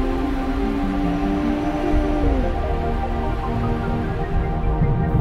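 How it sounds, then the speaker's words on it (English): Whale songs setting on a Sleep Sheep baby soother: a long, low, sliding tonal call drifts over a constant watery hum, steady and unbroken with no talking. "whale songs,"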